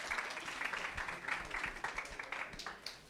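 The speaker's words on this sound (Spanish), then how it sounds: "un aplauso de nueva cuenta" An audience at a university panel gives steady clapping, a few seconds of applause with some closer individual claps standing out and no talking over it.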